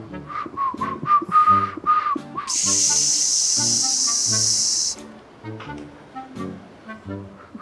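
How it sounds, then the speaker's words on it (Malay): A person whistles a short run of notes indoors, clear and close, followed by a loud, steady hiss lasting a few seconds. "jangan bersiul lah"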